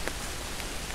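Rain falls during a thunderstorm in a forest, a brief, even hiss of drops pattering on leaves and surfaces with no voices.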